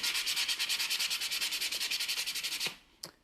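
Rapid, rhythmic dry sanding strokes of sandpaper on a 3D print rasp back and forth steadily for several seconds, then stop, followed by a single brief scrape.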